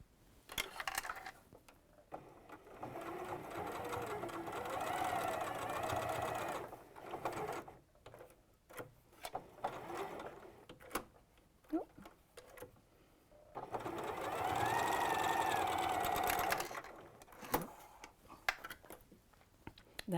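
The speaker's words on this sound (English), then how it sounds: "the instructions say you just sew over it." A sewing machine stitches a quilt in two sustained runs of rapid, whirring needle strokes, separated by quieter pauses with small handling clicks and thumps; fairly close and steady while running, with no talking.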